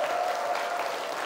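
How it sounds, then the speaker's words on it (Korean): An audience of leaders at a health lecture applauds with a steady, moderately loud burst of clapping that fills the short moment. "여기 앉아 계신 핵심 리더 여러분 모두를 위해서 박수 한번 쳐주시기 바랍니다."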